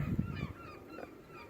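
Geese honk a few times in quick bursts, fairly distant and soft, with outdoor background noise.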